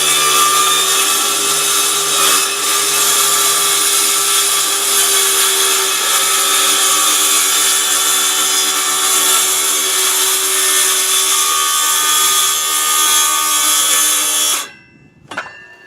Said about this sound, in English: Now you have to be very careful here doing a plunge cut